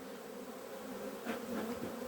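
Honey bees buzz faintly at a hive after long spring rains, a steady low drone with a brief swell as one passes near.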